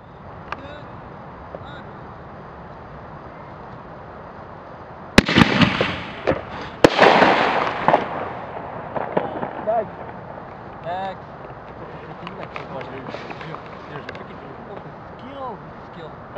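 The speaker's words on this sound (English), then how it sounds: "you should see like three fireworks going off" Several sharp bangs and crackling bursts of fireworks fired from a compressed air cannon launcher go off close by, followed by a hissing, crackling tail, over a steady outdoor background.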